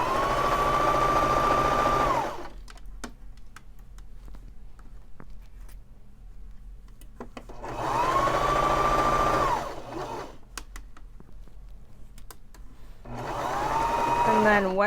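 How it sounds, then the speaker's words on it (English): A Baby Lock Zest sewing machine runs a seam down a shirt in two long steady whirring bursts with a pause between them, then starts up again at the end. "I'll just sew all the way down to the bottom of the shirt."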